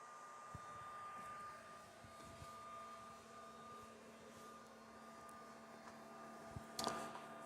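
Sovol SV08 3D printer homing its axes, a steady motor whine and mechanical hum running throughout with a few faint clicks and a brief louder burst near the end, no talking.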